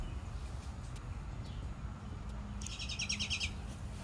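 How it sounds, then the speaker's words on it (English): A bird chirps in a rapid burst of high, bright notes toward the end, heard faintly against a steady low background rumble, with no talking. "Can hear the bird chirp on that one."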